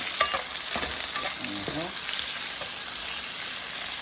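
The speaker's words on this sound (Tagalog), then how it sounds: "Gisa lang po natin yung ganyan." Garlic, onion and tomato sautéing for a squid stir fry give a steady, close frying sizzle with a few stirring scrapes and brief clatters near the start.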